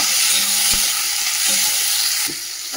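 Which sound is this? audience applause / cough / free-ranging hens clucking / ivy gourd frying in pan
ivy gourd frying in pan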